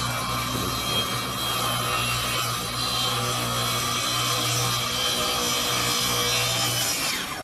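A power saw cuts plywood for a greenhouse frame, a continuous loud buzzing rasp that holds steady and stops abruptly at the end.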